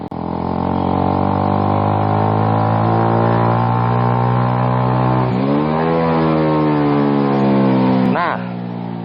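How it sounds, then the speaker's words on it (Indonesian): Motorcycle engine held loud and close in second gear, revving steadily up to high RPM, then dropping sharply as it engine-brakes down into first gear, with a second brief surge and fall near the end. "Gue bakal ngegaspol sampai RPM tinggi dan gue bakal engine brake ke gigi 1."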